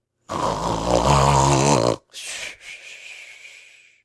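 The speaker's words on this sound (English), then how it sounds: "still Tommy Brock snored regularly and never moved" A badger snores in a storybook reading, a long voiced snore with a tonal, drawn-out drone followed after a short pause by a softer, breathy exhale, loud and close with no other sounds.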